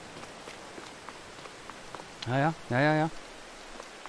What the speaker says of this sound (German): Oh, kann der Regen mal aufhören? Der Regen macht mich sauer.